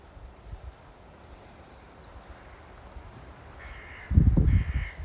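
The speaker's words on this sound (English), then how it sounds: "And I got crows all over me." Several crows caw in two loud bursts near the end, outdoors with a steady wind and faint background rumble, around a drone flight.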